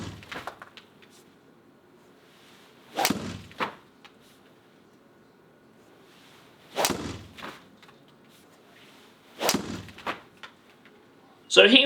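TaylorMade Qi10 LS driver head striking a golf ball outdoors, three sharp loud cracks spaced several seconds apart, each followed by a brief rush, with a fainter strike at the start and another cut off at the end.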